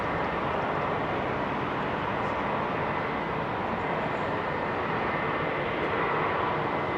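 A former KLM Boeing 747 Combi freighter departs Heathrow with a loud, continuous roar of jet engines that stays broad and steady throughout. No talking is heard.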